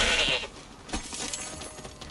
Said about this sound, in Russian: О, горные козлы.